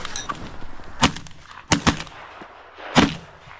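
Shotgun shots fired while hunting Canada geese in a small field: three sharp, loud blasts spaced about a second apart, each with a brief tail, over a quiet outdoor background.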